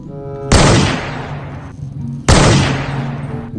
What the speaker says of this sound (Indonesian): Wow, sniper klasik.